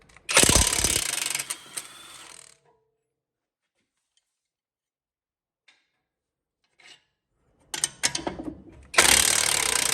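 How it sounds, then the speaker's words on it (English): Impact wrench loosening 24mm suspension bolts on a 2009-2015 Honda Pilot, loud close bursts of whirring hammering at the start, a few faint clicks during a quiet stretch, then renewed rattling bursts near the end. "We'll put the wrench on one side and the impact on the other."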